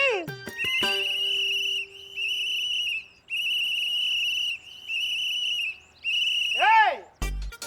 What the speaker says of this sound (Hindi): काहे यहाँ कान में आके जोर जोर से सीटी मार रहे हो